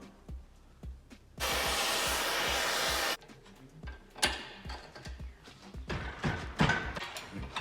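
A torch or heat gun heats a rusty exhaust fastener on a VW bus with a Subaru engine swap, giving a steady loud roaring hiss for about two seconds, followed by clanks, taps and shop clatter.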